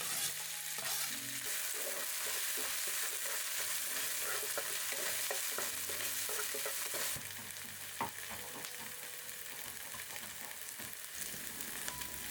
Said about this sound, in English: chop your onions, and then add some oil to your pan